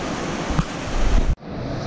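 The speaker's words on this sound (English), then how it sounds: "Allen Falls from the bottom." Allen Falls on the Missinaibi River roars as a steady, broad wash of rushing water close by, continuous and loud, with a sharp drop in level near the end.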